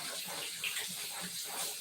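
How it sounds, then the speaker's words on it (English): Hands being washed under running water at a kitchen sink, a steady faint hiss of the tap flowing continuously with light splashing, heard alone. "Washing my hands"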